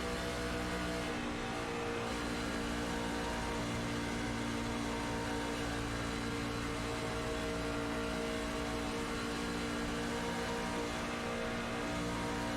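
A race truck engine roars on a lap of Las Vegas Motor Speedway, a continuous loud droning tone held at near-constant pitch and level throughout, with no talk.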